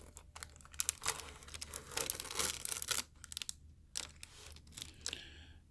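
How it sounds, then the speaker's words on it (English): Adhesive tape peeled off the back plate of a 21-inch iMac during a screen repair, close crackling and ripping bursts in several short pulls with quiet pauses between. "peel some of this tape off to expose our connectors"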